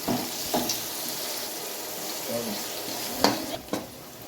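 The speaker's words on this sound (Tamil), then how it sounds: "வெங்காயம் பார்த்திங்கன்னா நல்லா வதங்கிச்சு பொன்னிறமாக." Onions sautéing to golden brown in a pot for biryani, a steady close sizzle with occasional scraping stirs and spoon clinks against the pan.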